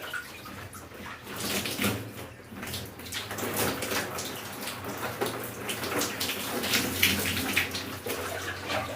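Shower water running steadily in a bathroom, a continuous broadband hiss and patter from close by, with a few louder splashes and no talk.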